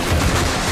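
Rail gun fire in the video game Metal Gear Solid 2: a brief, loud, dense blast of broadband noise that fills the whole short moment, with no talking.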